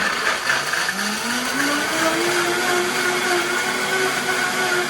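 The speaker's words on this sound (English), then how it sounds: "make sure the Vitamix is on low, and then put it on" A Vitamix blender on its low setting, blending cauliflower mash, whirs steadily and loudly on its own, its pitch slowly climbing as it spins up, with no voices.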